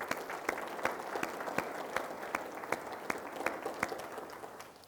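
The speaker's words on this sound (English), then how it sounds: "give yourselves a big round of applause" Applause from an audience at a Douglas County state of the county address, a steady spread of many hands clapping with sharp individual claps popping out, moderately distant and fading slightly toward the end.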